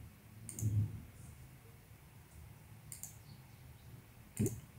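Three short, faint computer mouse clicks spaced a couple of seconds apart while working in an Excel spreadsheet, in an otherwise quiet room.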